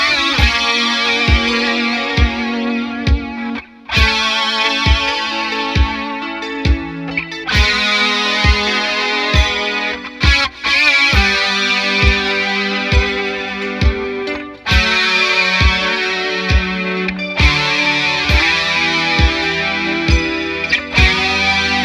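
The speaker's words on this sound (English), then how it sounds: "so I'm going to play guitar number 2 over top of it" Distorted electric guitar with chorus plays the second guitar part of a song over a looped first guitar, with a steady rhythmic pulse and loud, sustained chords throughout.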